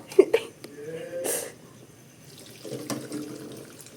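Water poured into a pot while cooking soy sauce eggs in a home kitchen, a brief splashing rush amid clatter and low background voices.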